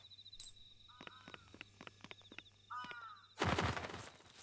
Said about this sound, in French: Un corbeau.